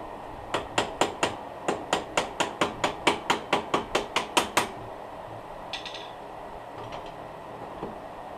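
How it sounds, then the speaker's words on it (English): A rawhide hammer strikes a RideTech coilover front suspension part while it is being installed on a vehicle. About fifteen sharp, evenly spaced blows land close by at a steady rhythm, followed by a few faint knocks and clinks. "You guys have never used a rawhide hammer before."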